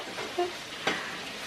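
Ackee stirred in a pot while cooking, with a couple of soft scraping strokes and a faint background sizzle, quiet and close, with no voices.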